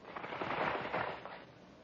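A radio drama effect of soldiers firing weapons, heard as a short, dense, muffled burst of crackling shots lasting under two seconds with no voices over it.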